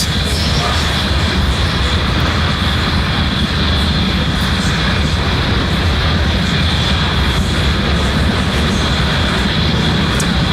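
A SpaceX Falcon 9 rocket carrying the KPLO lunar satellite climbs after launch from SLC-40 at Cape Canaveral Space Force Station, a loud, unbroken broadband engine roar that stays steady and dense throughout.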